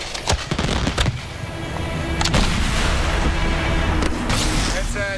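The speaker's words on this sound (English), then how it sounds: "Each mortar shoots a single fireworks shell up into the sky." Fireworks shells launched from high-density plastic mortars fire in a rapid, loud barrage of booms and cracks over a continuous rumbling roar.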